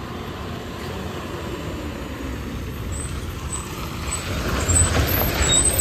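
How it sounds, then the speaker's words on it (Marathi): A bus pulls in at a roadside stop in Kankavli, its low engine rumble growing louder and nearer, with sharp hissing air-brake bursts toward the end; no one speaks. "आणि गाडी आलेली आहे कणकवली आयनर कोळशी नांदगाव मार्गे"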